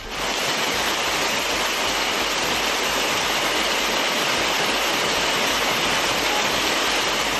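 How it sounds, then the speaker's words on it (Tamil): Heavy rain pours steadily in Tamil Nadu, a dense, continuous hiss of falling water that stays loud and even throughout, with no voices. "இரண்டாவது நாளாக பெய்த மழையால் குளிர்ச்சியான சூழல் நிலவியது"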